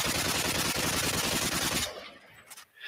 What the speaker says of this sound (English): I dove for the floor and lay there as several more bullets buzzed through the air.